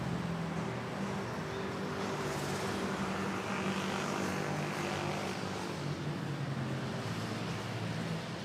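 A propeller aircraft at Manila Airport drones steadily, a broad continuous engine and airscrew roar heard at moderate distance throughout, with no voices.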